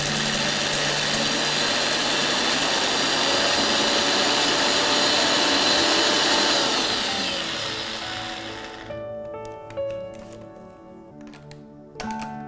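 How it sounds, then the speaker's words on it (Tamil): A mixer grinder runs loud and steady, grinding a sweet mixture in a home kitchen, then cuts off and winds down, leaving scattered faint clicks and knocks. "So will just grind it 1 more time."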